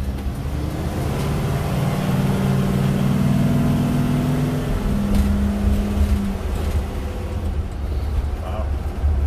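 A 2017 Ford F-450 pickup truck, just after a transmission fluid change, hums along with a steady engine drone and audible gear shifts. Voices talk over it throughout.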